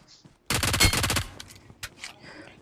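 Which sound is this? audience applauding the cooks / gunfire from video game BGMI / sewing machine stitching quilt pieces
gunfire from video game BGMI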